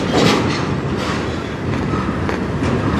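A CN freight train hauling intermodal cars carrying about four containers each rolls past nearby in Sarnia, Ontario, with a steady loud rumble and rattling wheels throughout.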